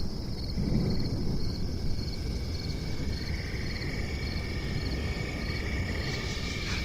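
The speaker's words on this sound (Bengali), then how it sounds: "আর রাস্তার পাশ দিয়ে জঙ্গল থেকে ঝিঝি পোকার" Crickets chirp in a nighttime forest beside a muddy road in a cartoon, their steady high pulses repeating over a constant rustling background hiss.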